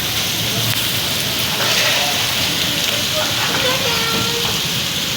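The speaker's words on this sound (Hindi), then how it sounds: "मजे की बारिश हो गई है, बहुत मजे की बारिश हो गई है।" Steady rain falls in Karachi, a dense broadband hiss holding constant with faint scattered drips and patters, while a few faint voices murmur in the background.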